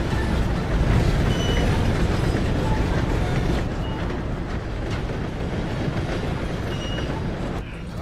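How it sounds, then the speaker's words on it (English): A train rumbles past in the open world of Red Dead Redemption 2, a loud, steady rolling roar filling the whole stretch with faint clatter, easing slightly near the end, with some talk underneath. "Gotta beat that train,"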